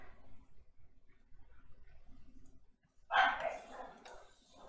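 A dog being looked after barks a short burst in the background around the three-second mark, somewhat distant, after quiet low rumbling room noise.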